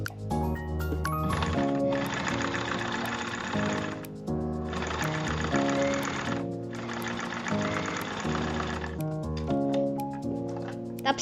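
A sewing machine topstitches a corset in three sustained bursts of rapid, buzzing stitching, close and loud, with brief pauses between runs and no talking.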